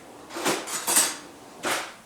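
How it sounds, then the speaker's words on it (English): A knife grabbed from among kitchen utensils, three distinct metallic clatters of cutlery and pans knocking together, close and bright with short pauses between, no talking. "we'll grab a knife"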